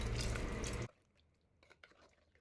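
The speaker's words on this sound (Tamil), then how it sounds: "இது கூடவே தேவையான அளவுக்கு தண்ணி சேர்த்திக்கலாம்." Water splashes into a pot of Madras hotel-style idli sambar seasoned with Kashmiri chilli powder: a loud pour of under a second cuts off, then faint scattered drips.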